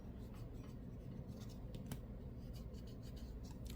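Finger rubbing China marker off a diamond painting canvas makes faint, close, dry scratchy rubbing strokes in a quick, uneven rhythm.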